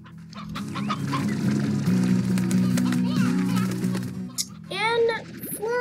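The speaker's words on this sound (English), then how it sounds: "I'm gonna drop off these roosters, this hen, and these fire hens." Roosters and hens cluck and squawk in the farming video game Slime Rancher, a busy cackling chorus layered over game sounds and music, with a player talking throughout.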